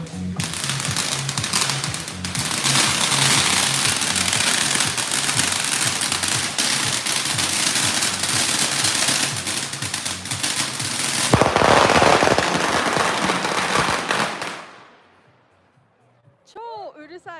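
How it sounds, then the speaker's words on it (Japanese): Firecrackers and fireworks set off in the middle of a street make a loud, dense, rapid crackle of bursts for about fourteen seconds, then fall quiet, and a brief voice follows. "お店で爆竹とか花火を買って、道端真ん中でやっている様子です"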